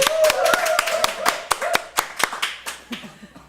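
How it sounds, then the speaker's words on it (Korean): A small studio audience welcomes a guest onto the stage of a book talk show with sparse, distinct handclaps. The claps are irregular and fairly close, and they thin out and fade toward the end. "박수로 맞이해 주시기 바랍니다"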